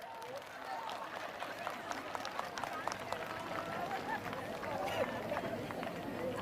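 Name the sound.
congregation clapping loudly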